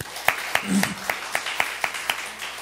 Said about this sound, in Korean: 우리 감사의 박수 한번 치겠습니다